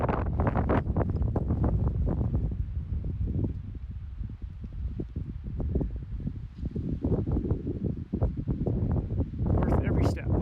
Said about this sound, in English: It is a little breezy up here today.